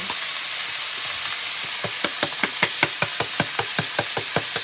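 Venison steak sizzling in a hot skillet, a steady frying hiss with a run of sharp, regular crackling pops that grows louder over the last half, close and alone without talk.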